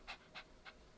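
A dog named Gigi pants in three short, quick breaths, close by and fairly faint in an otherwise quiet room.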